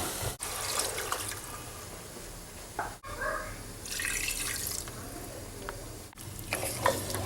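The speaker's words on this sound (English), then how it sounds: "we'll add 2 cups of water to it" Water is poured into mutton roasting in a pan for rogan josh, hitting the hot meat with a splashing hiss and sizzle, and stirring follows in short bursts.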